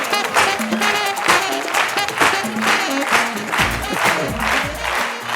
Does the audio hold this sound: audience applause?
yes